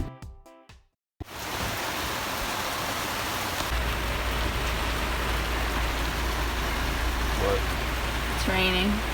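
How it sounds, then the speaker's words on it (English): Steady, dense rain hisses continuously during a thunderstorm at Green Turtle Key, after a brief burst of music and a short silence, loud and close, with faint higher tones near the end. "It's raining."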